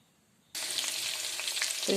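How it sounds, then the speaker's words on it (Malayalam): After a brief silence, a loud sizzle bursts out as mustard seeds and shallots hit hot oil, then keeps crackling steadily up close. "ഞാൻ കടുക് പൊട്ടിച്ച് അതിനകത്തേക്ക് ചുവന്നുള്ളി ഇട്ട് കൊടുത്തിട്ടുണ്ട്"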